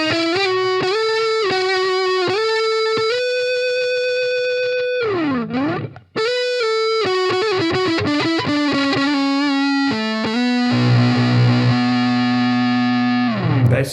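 Electric guitar through a NUX Amp Force amp and cabinet simulator set to a solid state amp tone, clean sustained notes and a bending pitch swoop, then fuller strummed chords, loud and up front with no talking.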